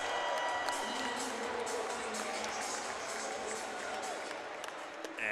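Arena crowd at an NC State vs Army college wrestling dual meet cheering and shouting steadily throughout, a dense, loud roar of many voices with scattered claps that eases slightly near the end.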